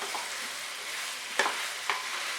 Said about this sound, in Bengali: নাড়তে নাড়তে কষিয়ে নিতে হবে